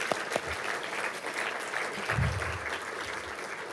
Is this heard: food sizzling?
no